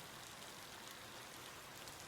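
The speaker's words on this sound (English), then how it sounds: "Maybe wait until it's not raining to try cooking outdoors." Rain falling in the farming and monster-taming video game Ova Magica; a steady, quiet, even hiss of drops on surfaces with no other sounds or speech.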